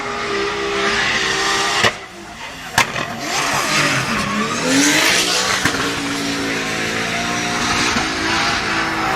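Drift car lapping the track at a French drift championship round, engine roaring and revving continuously with rising and falling pitch, a couple of sharp bangs, loud and close throughout.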